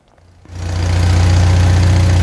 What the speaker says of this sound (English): My tractor is running and shows really good oil pressure on the gauge.